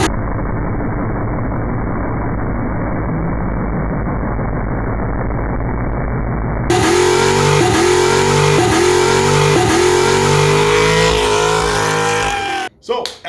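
A car does a burnout, its engine roaring loud and close in repeated rising revs with tire noise over a heavy rumble, cutting off abruptly near the end.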